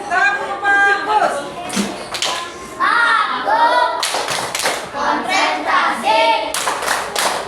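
Elementary schoolchildren in a fifth-grade classroom performing a rhythmic clapping chant, sharp hand claps in patterned bursts alternating with children's sung and spoken voices, loud and close.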